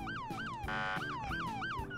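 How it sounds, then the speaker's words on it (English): Police car siren wailing in a repeating up-and-down yelp with a steady high tone midway, loud and close as it passes, with no talk over it. "Well, the police just passed right by me."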